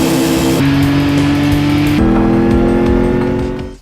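Race cars in the video game Gran Turismo 5, loud revving engines with sharp gear-shift pitch steps and faint tyre squeal, cutting off abruptly at the end.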